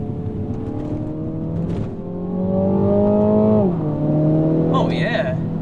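A car in sport mode accelerates up close with a rising engine drone, pauses at a shift, then keeps pulling at a steady roar, and a voice cuts in near the end.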